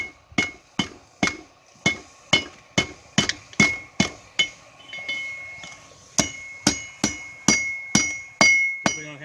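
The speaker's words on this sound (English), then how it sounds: "Strike on the ends that are hanging over the anvil" A blacksmith's hammer strikes hot steel on an anvil at a forge, over twenty sharp ringing blows in a steady rhythm with a brief pause midway, loud and close.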